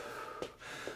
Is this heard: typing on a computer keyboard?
no